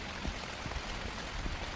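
Rain falls on a rainy night as a soft, continuous patter, with scattered heavier drops tapping at irregular intervals on a nearby surface, quiet and without voices.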